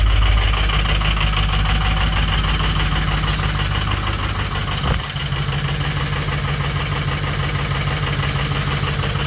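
An old Jeep Grand Cherokee WJ engine runs steadily at a low, rumbling idle after a cold start, close and loud, with a brief dip midway.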